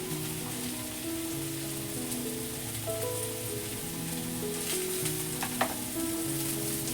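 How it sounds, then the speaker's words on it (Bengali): Potatoes frying in oil with salt and turmeric, a continuous close sizzle and crackle with occasional stirring clicks, some faint tonal sounds in the background. "এখন আলুটাও ভালো করে লবণ হলুদ দিয়ে ভেজে নিচ্ছি"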